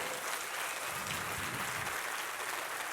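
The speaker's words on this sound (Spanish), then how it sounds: "Aplaude a Cristo." A church congregation applauds at a sermon, a steady wash of clapping from many hands that sounds distant and fairly faint.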